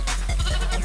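Baby goat in the Gobi Desert of Mongolia giving a short, close bleat, a single wavering cry over a steady background hum.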